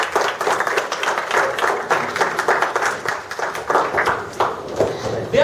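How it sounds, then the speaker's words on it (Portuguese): A group in a leadership-training session claps steadily for about five seconds, a dense patter of many hands with faint voices underneath. "uma salva de palmas para você"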